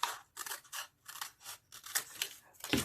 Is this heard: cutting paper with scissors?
yes